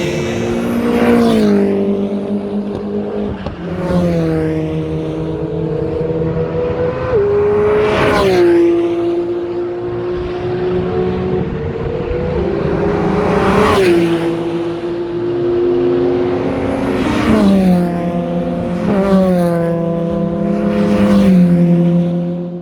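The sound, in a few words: race car engine revving on track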